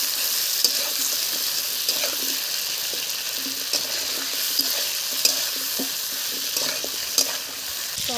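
Ginger garlic paste frying in a pan, a dense close sizzle with frequent light scrapes and taps from stirring scattered through it.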